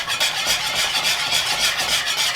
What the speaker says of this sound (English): Set that aside and immediately start whisking.